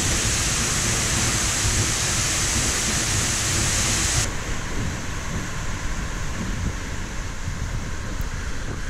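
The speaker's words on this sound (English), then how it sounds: "This waterfall is one you can walk underneath and only get a little bit wet." Close, roaring broadband rush of a waterfall in Iceland that can be walked underneath, a continuous heavy wash of falling water with no pauses, loud and steady throughout.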